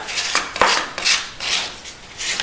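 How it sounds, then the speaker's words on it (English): Credit card or scraper spreading inlay filler across a wooden fretboard: repeated close, soft scraping strokes in a loose rhythm, about five passes in a couple of seconds, with no voices. "I'll use a credit card or a scraper to fill in"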